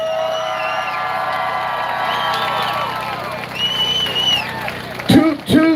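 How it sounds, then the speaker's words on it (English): Crowd at an outdoor freedom assembly in Toronto applauding and cheering, with tonal whistles or shouts over a bed of clapping, growing louder near the end with bursts of nearby voices. "Let's give a warm round of applause for Vaccine Choice Canada."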